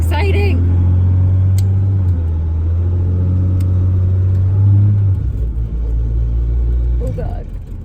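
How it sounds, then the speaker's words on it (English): An automatic car's drivetrain in first gear under way, with a steady low engine drone that drops in pitch partway through as the torque converter locks up; people talk over the loud cabin rumble. "That's torque converter lockup."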